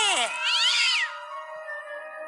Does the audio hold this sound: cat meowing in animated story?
yes